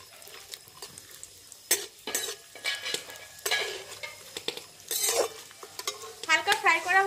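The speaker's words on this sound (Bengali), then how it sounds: "এর মধ্যে কাজু কিশমিশ যেগুলো দেবো সেগুলো এবার একটু হালকা ফ্রাই মতো করে নেব।" Cashews and raisins lightly frying with cinnamon and cloves for Bengali basanti pulao, a gentle sizzle broken by repeated spoon-on-pan clinks and scrapes, with louder bubbling crackle toward the end.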